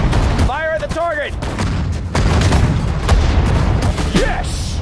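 Gunfire and artillery shells go off in a World War II strategy battle at the Battle of the Bulge in Sudden Strike 4, heavy booms and shot cracks layered under shouted voices and game chatter.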